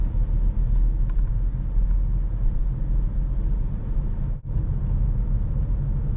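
A manual car creeps forward at the clutch biting point with a steady, low engine rumble and road noise throughout, constant in level with one brief dip partway through.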